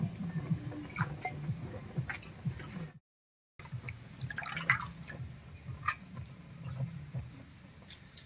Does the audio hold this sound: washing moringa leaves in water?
yes